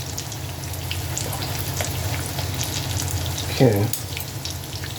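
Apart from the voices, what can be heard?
apple fritters frying in oil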